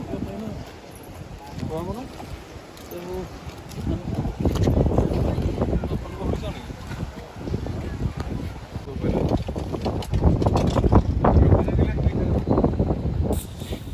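Strong wind gusting at the seaside in Goa on a hot day, a steady rumbling roar that swells louder toward the end, with people talking over it.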